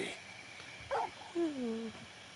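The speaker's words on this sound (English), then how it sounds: "You're just a big puppy, aren't you? A very big puppy." A big dog companion in the video game Final Fantasy 16 gives short whimpers and soft yips, rising and falling whines at close range amid faint background music.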